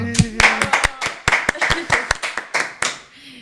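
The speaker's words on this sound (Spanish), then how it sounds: "nuevamente fuerte un aplauso" A crowd applauds with a burst of sharp, rapid hand claps that continue steadily for a few seconds before fading out.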